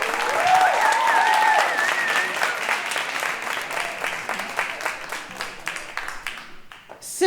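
A crowd applauds steadily and loudly for Kai Smith at a Pass It On event at Spirit Gates, with dense sustained clapping that slowly thins and fades toward the end.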